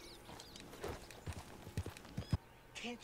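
Horse hooves clip-clopping in a video game, a handful of irregular thudding steps over quiet ambient background, with a brief whinny-like tone near the end.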